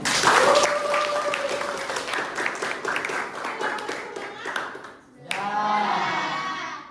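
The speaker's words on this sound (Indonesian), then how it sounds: "Ayo kita berikan aplaus untuk kita semua." A class of students bursts into applause and cheering near the end, following a stretch of voices and a brief lull; the clapping is dense, lively and close.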